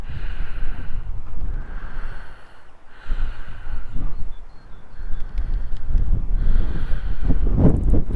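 Strong, gusty wind batters the microphone at a scenic outdoor spot near an old church in Suffolk, a loud continuous roar that swells and dips in waves with no talking.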